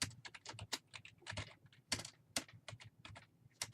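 Rapid, uneven keystrokes on a computer keyboard while entering a contract job start time, close and crisp with short pauses between bursts of clicks.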